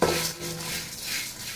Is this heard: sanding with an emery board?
no